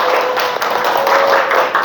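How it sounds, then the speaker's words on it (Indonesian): A classroom of students claps for a classmate, a short dense burst of hand clapping that stays steady and fairly loud throughout. "Tepuk tangan buat teman kita."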